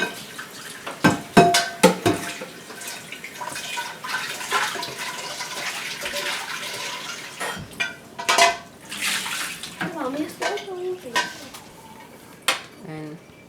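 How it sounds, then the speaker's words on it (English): Dishes, pots and cutlery clatter and clink in a kitchen sink under running water, with irregular bursts of knocks and splashes, close and fairly loud. "Now I'm washing dishes."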